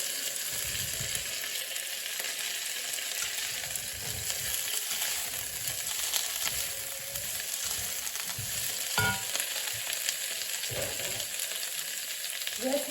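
Green asparagus spears sizzle steadily in a hot pan, a continuous close frying hiss with a few soft clicks and shifts as pieces settle, with no talking.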